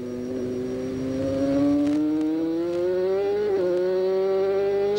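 A 500cc Grand Prix racing motorcycle accelerates hard, its engine note climbing steadily in pitch with a brief stutter at a gear change before rising again, loud and alone.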